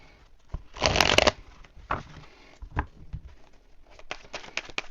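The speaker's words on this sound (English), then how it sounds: "A couple more shuffles." Tarot cards being shuffled by hand, a dense riffling burst near the start followed by several shorter flicks and taps, close and moderately loud with no talking.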